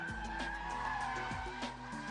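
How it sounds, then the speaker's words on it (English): A BMW Z3 M Roadster drifts, its rear tyres sliding and scrubbing steadily under a loud, continuous engine drone with shifting revs, close and unbroken throughout. "hammer the throttle down for extra power, and now you have to catch the slide with the steering"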